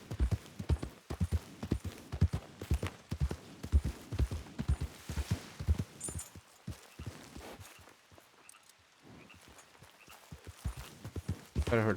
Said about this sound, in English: I heard horses.